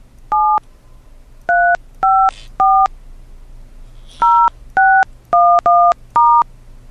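Telephone keypad touch-tone dialing, eleven crisp dual-tone beeps in uneven groups, close and loud over faint background hum.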